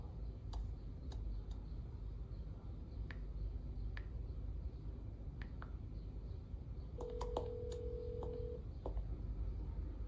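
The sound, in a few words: telephone number being dialed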